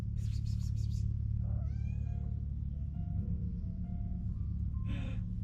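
A friendly cat met along the Camino de Santiago pilgrimage route gives a few close meows, one drawn-out and rising. A steady low rumble runs underneath, with brief bursts of other noise.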